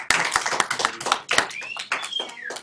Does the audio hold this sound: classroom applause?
yes